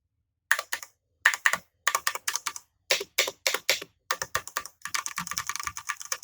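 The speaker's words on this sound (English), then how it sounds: "I'm just going to hit a few random keys" Clattery keystrokes on a Ducky One 2 Mini 60% mechanical keyboard with double-shot PBT keycaps, struck close to the mic in quick irregular bursts, then a dense flurry of rapid typing at the end.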